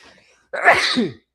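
A single sharp, loud sneeze from a person on a football podcast, close to the microphone, brief and alone after a short faint breath.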